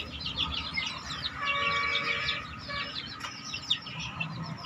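Chickens cluck and chirp in a busy, steady chatter around feed of millet and poultry mash, the calls close by and fairly constant with no talking.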